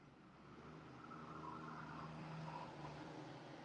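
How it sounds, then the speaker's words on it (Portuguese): A truck passes by outside a room, a steady low engine rumble that swells gradually and holds at moderate loudness throughout, heard from a distance with no voices present. "Tem um caminhão passando aqui na frente."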